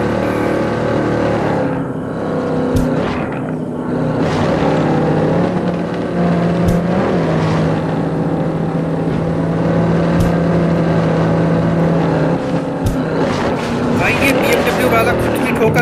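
Car engine droning and revving in the Drive Zone Online racing game, a loud steady motor tone running under continuous talk throughout.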